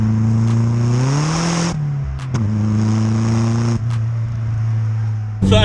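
A modified VW 6N2 Polo hot hatch with a swapped-in 1.8 turbo engine accelerates hard through the gears, its loud, rising engine note cut by sharp shift breaks and turbo bursts, heard up close inside the car.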